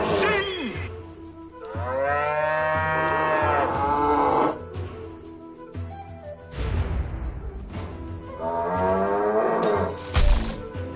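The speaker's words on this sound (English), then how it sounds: "Oh my god, Nazi cows!" Cows moo in the video game South Park: The Stick of Truth, with several long, drawn-out lowing calls rising and falling over game background noise, broken by a sharp crash near the end.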